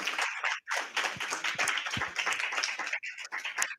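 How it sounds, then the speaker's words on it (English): A crowd applauding, a dense burst of clapping that rises and dips over a few seconds, fairly close. "can we get one more round of applause for Sister Paula Diann?"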